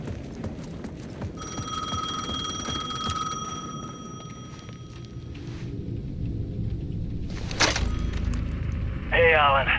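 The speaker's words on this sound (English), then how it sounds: "The payphone at the edge of the plaza was ringing again." A payphone rings at the edge of a plaza in the video game Alan Wake 2, a sustained electronic bell tone over low rumbling ambience and footsteps, then a brief burst of noise and a short buzzing tone.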